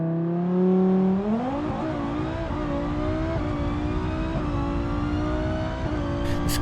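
A Civetta Scintilla in BeamNG launches on a 250 shot of nitrous, its engine note climbing sharply and then holding a loud, steady, rising high-revving whine with brief shift dips through the run.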